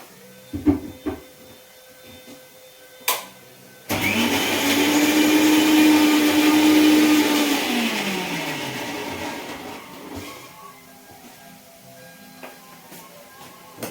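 A mixie grinder whirs loudly as it grinds curry spices with a splash of water for a prawn curry, starting abruptly with a clack, running steadily for about seven seconds, then winding down and stopping, with quiet kitchen knocks before and after.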